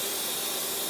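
Aerosol spray paint hisses steadily onto a crankbait fishing lure, a close, continuous broadband spray with no pauses.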